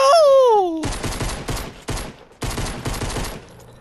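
Fortnite pistol shots fired in several quick bursts of sharp, close cracks, preceded by a brief high whistling tone and separated by short gaps.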